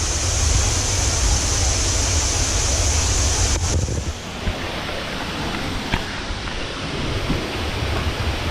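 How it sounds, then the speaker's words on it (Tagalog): Falls number 7 of the 13th Falls in Bulacan, a steady broadband roar of cascading water that stays loud and continuous throughout, with a slight dip partway through and no voices. "Ito yung falls number 7."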